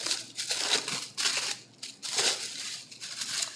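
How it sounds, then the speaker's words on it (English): Pie dough is unwrapped from plastic wrap on a floured work surface, giving close, crisp crinkling and rustling in several bursts with brief pauses between them. "I'm gonna unwrap my dough."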